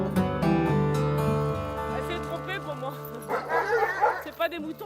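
Dogs in a kennel in Saguenay–Lac-Saint-Jean bark and yip repeatedly, a close, busy chorus that mixes with people talking.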